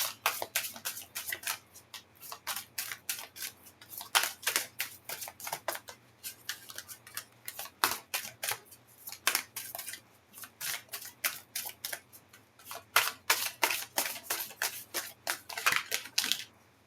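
Tarot cards shuffled by hand, a steady run of crisp papery flicks and riffles close up, coming in quick bursts with brief pauses over the whole stretch, no talking.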